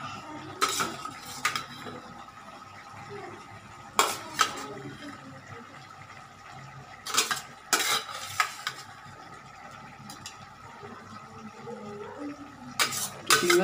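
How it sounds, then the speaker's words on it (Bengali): Prawns being added to bottle gourd in a pan and stirred, with sharp clanks of a metal spoon against the pan at irregular intervals over a soft background sizzle. "এই যে চিংড়ি মাছগুলো আমি বেশি মানে বেশি করে দিয়ে দিচ্ছি"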